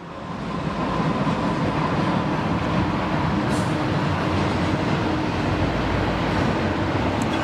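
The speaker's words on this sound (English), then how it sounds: "Our friend the train." A train passes outside as a steady, loud rumble with clickety-clack rail noise, continuous and unbroken throughout with no voices over it.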